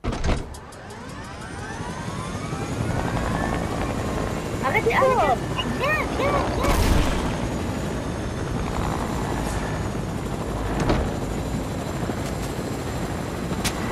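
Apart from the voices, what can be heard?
helicopter flying in a video game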